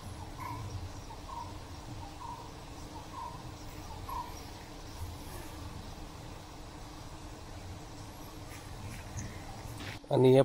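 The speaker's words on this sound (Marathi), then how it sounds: "हे बघा, माशांचा आवाज सुद्धा येते." Flies, bees and other insects buzz around fragrant surangi flowers in a sacred forest grove. The faint, low drone comes in soft pulses against a quiet outdoor hum and ends with a sudden loud bump.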